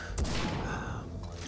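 Gunfire in Far Cry 3 Blood Dragon, a dense burst of shots and booms packed into a second and a half at fairly low level, with faint game noise behind.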